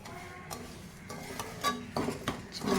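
Flattened rice (aval) roasting in ghee, stirred with a metal spoon that scrapes and clinks against the pan in irregular strokes, growing a little louder toward the end.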